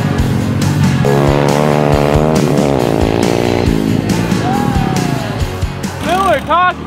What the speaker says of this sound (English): So here we have a fully built X3 Turbo RR, 200 horsepower to the engine there